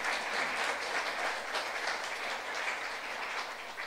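A church congregation clapping during a sermon, a dense, even wash of applause heard at a moderate distance and sustained throughout with no voices over it.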